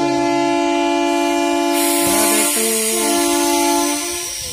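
A passenger train on the move sounds a loud, close, sustained multi-tone horn whose chords shift in pitch before fading slightly at the end, over a low rumbling background.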